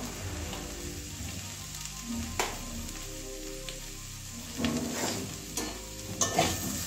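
Garam masala being stirred into fried cauliflower in a pan, with a soft steady sizzle under scraping spoon strokes that come in irregular bursts, close by and fairly quiet.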